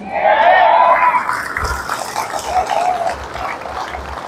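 A church congregation at a Filipino healing service applauds in a dense burst of clapping that starts loud and slowly fades over a few seconds.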